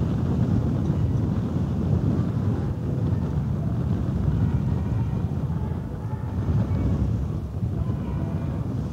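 Steady wind buffets the microphone at a harbour while ships pass, a continuous low rumbling roar that stays loud and even throughout, with no voices.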